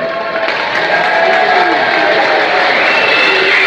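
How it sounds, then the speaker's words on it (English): A large stadium crowd at a Sunderland versus Newcastle football match applauds and cheers in a dense, continuous roar that stays loud and steady throughout. "A round of applause for the Foxy Physios as well"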